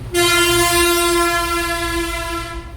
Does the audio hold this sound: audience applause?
no